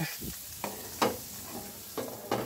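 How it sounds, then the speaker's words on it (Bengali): Spices, including whole garam masala, fry in hot oil to temper a mango dal. There is a continuous close sizzle with a few sharper crackles and stirring scrapes. "ডালটা এখন আমি বাগার দিয়ে নেব"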